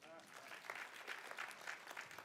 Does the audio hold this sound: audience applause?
yes